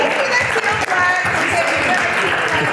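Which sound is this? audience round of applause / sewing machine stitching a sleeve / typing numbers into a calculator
audience round of applause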